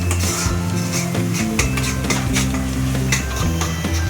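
Pav bhaji vegetables with pav bhaji masala being stirred in a pan: a loud, close sizzle with repeated scraping and clinks of a spoon against the metal.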